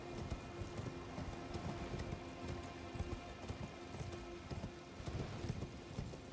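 Steady clip-clop of horse hooves trotting in a quick, even rhythm, with a constant low background hum throughout, from the video game Elden Ring.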